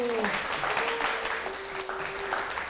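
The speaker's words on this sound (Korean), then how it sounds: "박수." Audience applause greeting a Korean singer at a lecture show, steady crowd clapping throughout with a sustained voice tone running over it.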